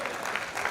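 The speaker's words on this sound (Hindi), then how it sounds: "तालियां कमजोर है" Brief burst of audience applause at a Hindi poetry recital, a steady wash of clapping from a crowd, fairly close and continuous with no voices over it.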